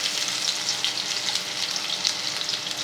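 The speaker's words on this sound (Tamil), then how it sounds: "எண்ணெய் சூடாயிடுச்சு. இப்போ வந்து சின்ன வெங்காயம் போட்டுருவோம்." Small shallots fry in hot oil for a drumstick-leaf curry, producing a dense, steady crackling sizzle, close and continuous, with no voices.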